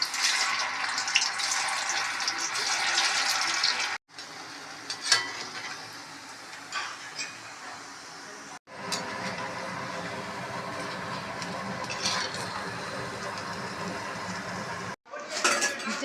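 Small pieces of sabudana pakoda batter sizzle steadily in hot oil, with occasional clinks of a spoon or utensil against the pan; the frying is near and continuous, broken by short cuts.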